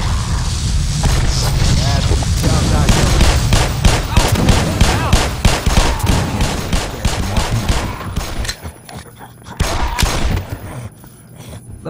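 Sustained automatic gunfire from an unlimited-ammo weapon in Black Mesa, loud rapid shots in a long dense burst that thins into scattered, quieter bursts near the end.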